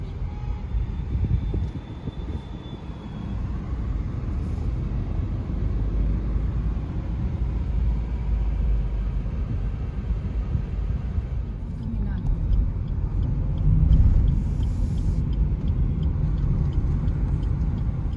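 A car sits in a slow traffic jam, its engine and road rumble a steady, low drone from inside the vehicle, continuous throughout with a slight swell near the end.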